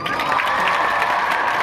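Loud, continuous applause and cheering from a crowd at an international horse show for a small-pony quadrille, with a dense wash of claps and scattered shouts.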